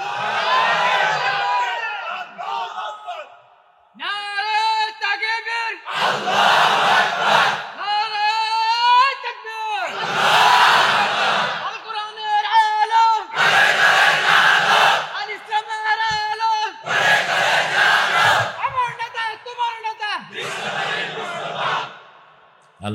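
A large crowd at a Bengali Islamic sermon roars the takbir in loud, repeated bursts, each chant rising together and answering a lone voice's call between them.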